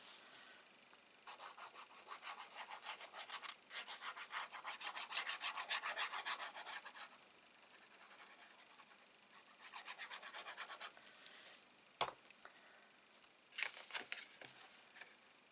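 Paper is rubbed down firmly onto a handmade Stampin' Up! card in repeated close, dry scraping strokes, in bursts with short pauses and a sharp tap near the end, with no talk.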